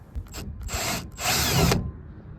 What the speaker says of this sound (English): Going to be using a T25 Torx bit.